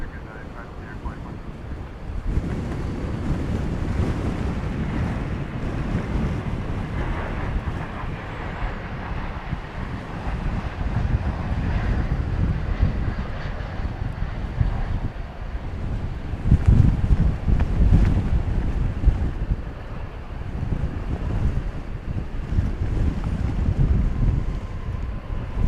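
Strong wind gusts across DFW Airport during evening plane spotting, a loud, continuous broadband roar buffeting the microphone, with a distant aircraft rumble blending underneath.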